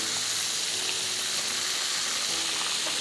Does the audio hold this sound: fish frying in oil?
yes